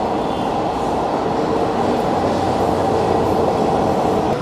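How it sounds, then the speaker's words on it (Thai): Bangladesh's first electric metro train, a rail line built by an Italian-Thai construction company, rumbling steadily and loudly at close range, with a continuous dense roar and no break throughout. "นี่ครับรถไฟฟ้าสายแรกในบังกลาเทศครับ"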